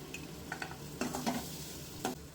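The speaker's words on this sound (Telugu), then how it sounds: "గోల్డెన్ కలర్ వచ్చే వరకు ఫ్రై చేసుకో." Paneer frying in a kadai until golden, with soft scraping stirs at irregular moments over a low, steady background sizzle; fairly quiet and close, no talking.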